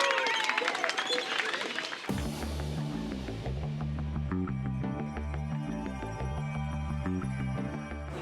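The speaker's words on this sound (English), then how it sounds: "A big round of applause for the Wayne train" A crowd applauds a race winner. Dense clapping fills the opening two seconds before music abruptly takes over.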